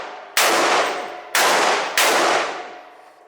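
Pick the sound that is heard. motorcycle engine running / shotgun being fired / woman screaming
shotgun being fired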